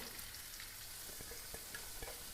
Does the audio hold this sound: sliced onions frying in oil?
yes